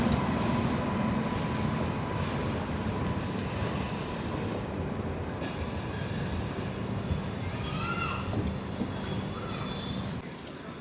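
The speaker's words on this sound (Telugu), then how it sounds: "సో ఈ ట్రైన్ రాయచూరు నుంచి విజయపురం వెళ్ళే ప్యాసింజర్ ట్రైన్ ఇది." A Raichur to Vijayapura passenger train hauled by a Kazipet-based G9 locomotive moves past at Shahabad, a sustained moderate rumble of rolling wagons with squealing wheels and occasional faint clicks throughout.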